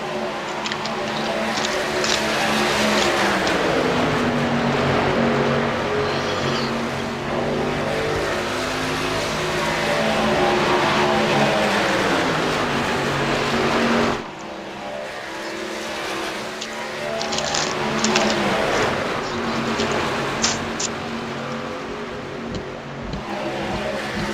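Race trucks in the Demon Truck Series roar loudly and continuously around the track, engine pitch rising and falling as the pack passes, with a brief dip before the engines swell again; a commentator talks over the racing.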